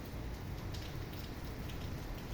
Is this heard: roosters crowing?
no